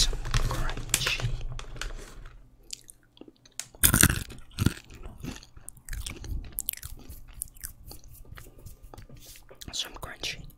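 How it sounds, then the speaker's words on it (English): Close-up ASMR crunching of peanuts being chewed, irregular crisp bites and munching near the microphone, quiet and intimate, with soft whispered talk in between. "I'm just eating some crunchy."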